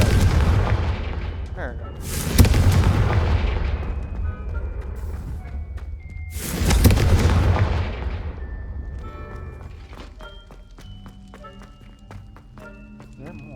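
Two heavy spell blasts, Bombarda and Confringo, boom out in Hogwarts Legacy, each a loud explosive burst with a rumbling tail, spaced a few seconds apart, with a voice shouting the spell names and quieter game sounds and music trailing after.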